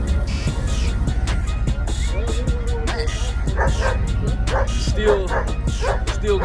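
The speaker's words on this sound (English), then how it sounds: "See the dog barking, you know what it is." A dog barks repeatedly in short yips over a constant rumble of traffic or engine noise, with a person talking nearby on the way to a car meet.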